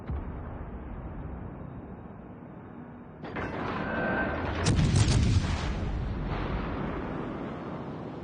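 Battleship main guns booming in World of Warships Legends, a sudden heavy roar near the three-second mark that swells into a louder rumbling blast and a long sustained rolling echo, with no talking over it.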